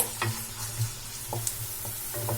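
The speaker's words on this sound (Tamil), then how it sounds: "போட்டுட்டு நல்லா வதக்கிக்கலாம் வெங்காயத்தை" Chopped onions sautéing in a pan for masala macaroni, a soft steady sizzle broken by repeated stirring scrapes and clicks of a spoon against the pan, close and fairly quiet with no talk.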